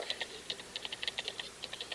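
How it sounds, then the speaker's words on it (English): Rapid typing on a computer keyboard during a sports talk show, crisp clicking keystrokes in irregular quick bursts, close and fairly clear with no talking. "And I apologize for typing."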